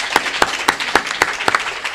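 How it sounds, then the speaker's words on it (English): Applause from an evening event audience, sharp regular claps at a steady rhythm, close and fairly loud with no talk over it. "Let's give them a round of applause."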